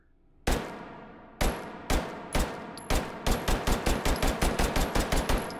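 A Glock 18 pistol with compensated barrel fired in the VR game Hot Dogs, Horseshoes & Hand Grenades: first single loud shots spaced apart, then a fast steady full-auto string, each crack ringing with a faint metallic ding.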